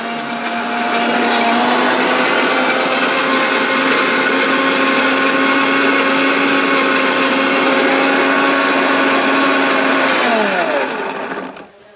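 An electric blender grinds a crushed glass mug, a loud, steady high-pitched whine with gritty rattling that runs continuously for about ten seconds before winding down and stopping.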